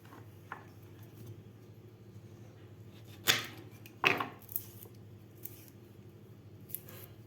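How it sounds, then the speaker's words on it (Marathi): Drumstick pods (shevga) being cut with a knife make a few sparse crisp snips and cracks, close and quiet, over low background noise. "अशा प्रकारे आपल्याला सगळ्या शेंगा कापून घ्यायच्या आहेत."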